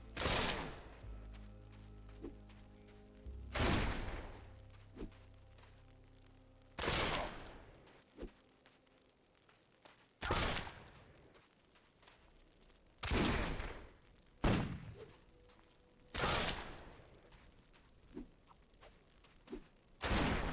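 Gunfire in the video game Risen, sharp bursts of shots every couple of seconds, loud and close, separated by quieter gaps with faint game sounds and no talking.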